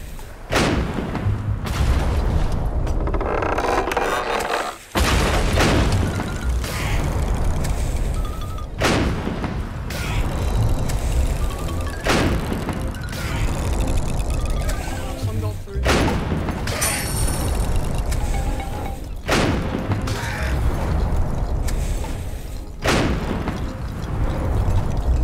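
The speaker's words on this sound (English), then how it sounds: "you do the only other thing and take down the bridge" A bridge being blown up in the Rec Room VR game Isle of Lost Skulls, with repeated loud booms and explosive blasts alongside cannon-like fire, spread steadily through the stretch.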